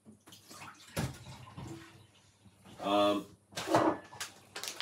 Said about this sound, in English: Put a little bit of water into the blender